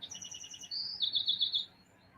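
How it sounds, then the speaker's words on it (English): A single bird sings outdoors on a warm day, a run of quick repeated high chirps that slide into a sustained bright trill, near and clear with no voices. "So the birds are welcoming you as well today."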